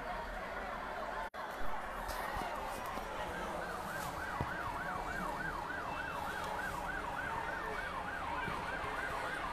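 A wailing fire service vehicle siren rises and falls steadily, fairly distant, over a constant background of traffic and street noise, during a fire behind CRP Hospital, Mirpur 14, Dhaka.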